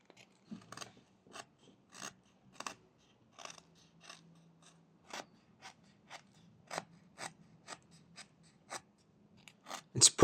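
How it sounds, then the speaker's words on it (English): A knife blade whittling a small wooden mushroom: a steady series of short, dry cutting strokes, each a brief scraping snick, repeating at roughly even intervals, close and clear with no talk, ending in a louder cluster of cuts. "So I'm cutting this first with the tip of the blade, and then just like this."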